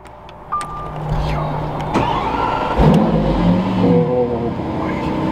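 The engine of a Lamborghini Sián supercar starts up and revs, rising and falling close by inside a space with some echo, while people talk over it.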